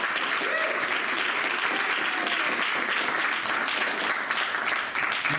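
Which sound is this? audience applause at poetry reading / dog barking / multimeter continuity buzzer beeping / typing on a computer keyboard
audience applause at poetry reading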